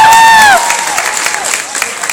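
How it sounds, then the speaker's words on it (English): A crowd cheers and claps, starting with a sharp whistle or shout before settling into sustained applause. "so give her a big round of applause"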